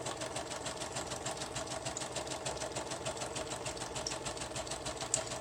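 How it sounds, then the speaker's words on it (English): Sewing machine running steadily while zigzag stitching a small fabric needle wallet, a fast, even mechanical whirring with a rapid repetitive needle tick, faint and continuous without voices. "I am going to sew it so that I've got the outside on top so I can see what's happening with it. And I'm zigzagging."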